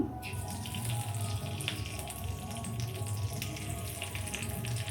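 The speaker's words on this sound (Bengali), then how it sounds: "কড়াতে সর্ষের তেল দিলাম কারি পাতা দিলাম" Curry leaves sizzle in hot mustard oil in a wok, giving a steady, close, even hiss that runs without a break and with no voices.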